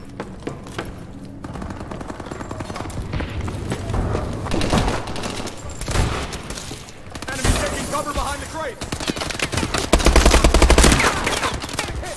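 Gunfire in Advanced Warfare multiplayer, a Kill Confirmed match: dense bursts of automatic weapon fire and scattered shots with a heavier volley near the end, mixed with a game soundtrack and someone talking over the action.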